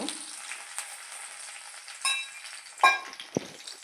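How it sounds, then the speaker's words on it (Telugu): Dried red chillies and cumin fry in oil with garlic and curry leaves for a fenugreek-leaf dal. A soft, continuous crackling sizzle sits close by, broken by a few sharper pops and stirring knocks, with no voices. "ఎండుమిరపకాయలు బాగా వేగనివ్వాలండి"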